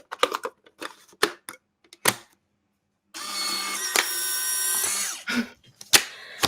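Mechanical clicks and whirring from an old film camera as a film tray of developed pictures is loaded, a few sharp separate clicks followed by a steady motorized buzz lasting about two seconds, then more clicks, close and clear.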